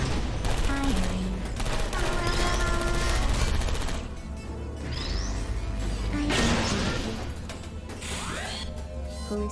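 Automated sentry turrets in Portal Stories: Mel firing rapid bursts, mixed with smashing impacts and whooshes, fairly loud and continuous with short gaps between volleys.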